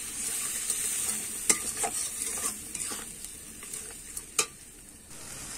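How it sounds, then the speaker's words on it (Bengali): Dry spices sauté in a pan with a little water for an aloo fulkopi curry, a soft steady sizzle broken by several sharp spatula scrapes and taps against the pan. "দিয়ে কিন্তু আমি শুকনো মশলাগুলো ভালো করে কষিয়ে নেব।"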